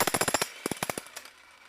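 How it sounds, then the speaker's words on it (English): A jackhammer hammers in rapid bursts of sharp percussive blows, one quick string, then a slower string of separate hits, then quiet, loud and close. "you know how it is with jackhammers"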